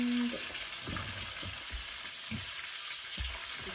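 Shiitake mushrooms hitting a pan of sizzling beef, a continuous hiss of frying with scattered soft thumps and scrapes of stirring, fairly quiet and close.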